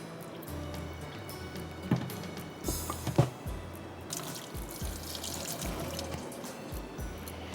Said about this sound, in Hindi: इसमें से पहले पानी निकाल लेते